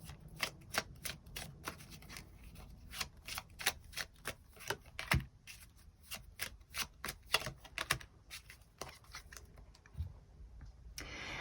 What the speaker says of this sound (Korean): 이번 분들 추가 카드로 앞으로 6월에 필요한 조언 조금 더 뽑아보도록 하겠습니다